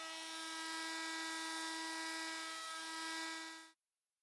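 A FEIN MultiMaster oscillating tool sands a boat's gel coat with 500 and 1000 grit paper on a large sanding disc during boat renovation, giving a steady, loud, high-pitched whine that runs alone for several seconds and then cuts off abruptly.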